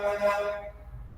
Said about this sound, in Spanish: perdón por la bulla de tanta bocina